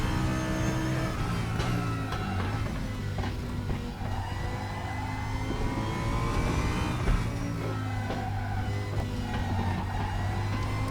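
An Audi GT3 race car in the RaceRoom racing game, its engine droning and revving steadily with rising and falling tones, close and loud for about eleven seconds without speech.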